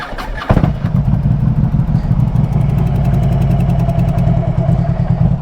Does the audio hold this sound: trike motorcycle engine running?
yes